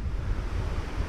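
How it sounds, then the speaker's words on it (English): Rushing water from a waterfall at Grafton Notch State Park, Maine, heard as a steady, low broadband roar with wind buffeting the microphone over a short stretch. "it's a short walk to the falls. I hear them."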